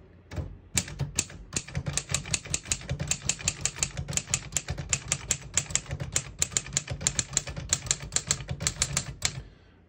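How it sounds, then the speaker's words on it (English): A 1955 Underwood Universal portable typewriter types a sentence, a quick steady run of sharp close keystrokes with light carriage thumps and no talking. "I'll type a sentence on the next line."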